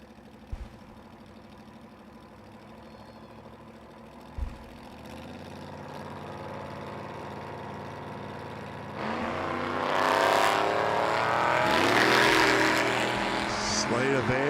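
Drag race cars at a strip, one of them an old Chevrolet Monza, idle and rumble before the engines rise into a loud, swelling roar of revving and launching. Two sharp knocks come early on, and a commentator talks over the scene.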